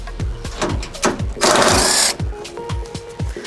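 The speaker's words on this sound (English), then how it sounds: "we're going to swap over to our 8mm socket. We're going to take off 2 nuts on the outside" An 8mm socket on a ratchet clicks in quick rhythmic bursts as two nuts holding the DRL light bar into a Cybertruck frunk are backed off, with a short hiss-like scrape in the middle, close and loud.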